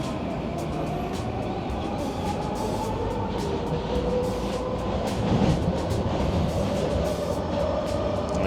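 Steady, loud rumble of a Vancouver SkyTrain Millennium Line car in motion, heard from inside, with continuous wheel and track noise and faint rattling that swells slightly midway, no voices.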